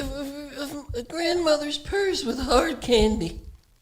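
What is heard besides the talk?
None of the usual background noises is heard.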